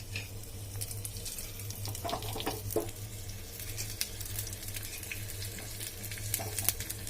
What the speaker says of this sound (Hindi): अब मैं इसको इसमें लगाऊंगी।